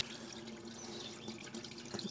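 Water pours steadily from the overflow pipe of a forebay tank barrel, a continuous close splashing flow with a few louder gurgles near the end.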